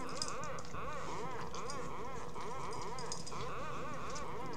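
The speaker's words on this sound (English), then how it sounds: "My dog heard me yell, so now she's checking on me." A pet dog checking on its owner whimpers in a rapid series of high, wavering cries, close and fairly loud, layered over a constant busy background.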